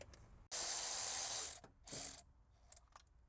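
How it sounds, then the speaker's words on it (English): Pneumatic impact wrench removing 12mm and 14mm alternator bolts on a Toyota Corolla: one loud sustained buzzing burst about a second long, then a shorter second burst, close up with quiet shop noise between. "I'm gonna use this impact one to remove those two bolts"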